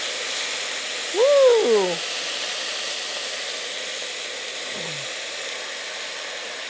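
Tomatoes hit a hot pan of browned lamb balls, and a broad steady sizzle hisses loudly and closely throughout. A voice lets out a brief excited exclamation early on.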